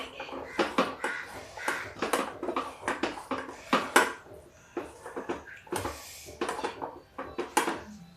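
A spoon repeatedly scrapes and clinks against a pan while okra is stirred with lemon juice, a steady series of close, fairly soft metallic knocks with no talk.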